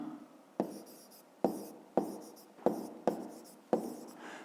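A pen writes out a fifth-grade math exercise solution on paper with six sharp, scratchy strokes at irregular intervals, each tap followed by a brief fading scrape, close and quiet.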